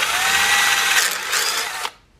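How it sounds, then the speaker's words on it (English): Power drill whirring loudly and steadily for nearly two seconds as it bores back into an existing hole in an ash wood coat rack, then cutting off abruptly into quiet. "So we're going to drill right in the same hole that's already there."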